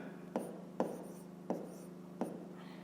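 Pen or chalk strokes while a fifth-grade math subtraction solution is written out, four short sharp taps spaced roughly evenly over a steady low hum, close and moderately quiet with no talking.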